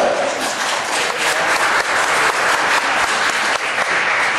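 Steady applause from an audience at a public listening session on recreational marijuana held with the OLCC, dense and loud throughout with faint voices mixed in.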